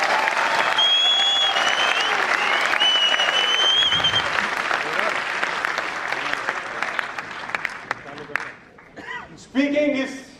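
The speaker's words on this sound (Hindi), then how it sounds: "तो होनी चाहिए एक बार जोरदार तालियां फिर।" Loud, sustained applause from an audience at a motivational lecture, dense clapping filling most of the clip before fading, followed by a voice speaking near the end.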